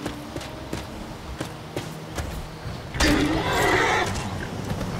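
A summoned horse in Skyrim whinnies loudly after a few soft clicks and thumps, the neigh rising and trailing off near the end.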